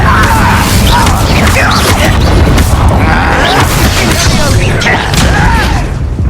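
Rapid booming spell blasts from the Incendio fire spell in the Hogwarts Legacy video game, loud and continuous, thudding and crackling during a duel with shouted voices mixed in.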